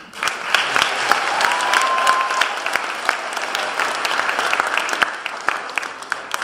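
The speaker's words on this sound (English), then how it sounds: "let's see if we get a round of applause for Deb Pierce in the Science Department." Sustained audience applause fills the hall at a school science fair ceremony, a steady dense wash of many hands clapping at moderate loudness with no talk over it.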